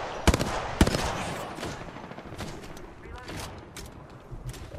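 Rapid gunfire rattles through an Apex Legends firefight, with two sharp close shots followed by quieter bursts and distant shooting under the game's noisy background; a player's voice comes through over the action.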